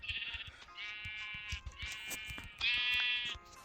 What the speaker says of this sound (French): Oh, notre futur mouton.